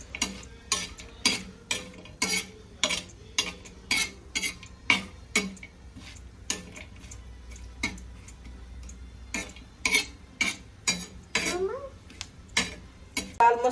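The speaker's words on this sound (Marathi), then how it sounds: "छान लाल खोबरं भाजून घ्यायचं आपल्याला." Dry red coconut roasting in a pan while a spatula stirs it, giving a steady rhythm of sharp scraping clicks against the metal, close and fairly loud, with no sizzle and no talking.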